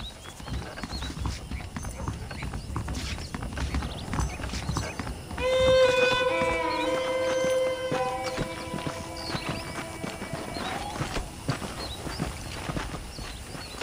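In the video game Red Dead Redemption, hooves clip-clop steadily at a walking pace throughout, and midway a horse lets out a clear, loud whinny over the footfalls.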